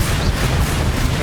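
A Confringo spell explosion in the Hogwarts Legacy video game, a loud, dense, rumbling blast that fills the whole moment with no pause.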